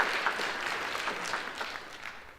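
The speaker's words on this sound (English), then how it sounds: "you could give her a rousing round of applause" An audience claps in a steady, dense round of applause for a guest minister being welcomed at a church service, the clapping sustained at moderate level throughout without talk.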